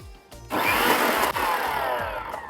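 A kitchen mixer grinder whirs loudly, grinding chickpeas with green chili and white sesame seeds; a brief start, then a steady high motor whine with grinding rattle, close and alone.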